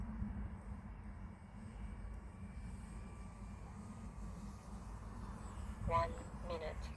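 HobbyKing Yak-11 RC model airplane making a low flyby with gear down, a steady distant engine drone under outdoor wind, faintly swelling near the end alongside a brief voice.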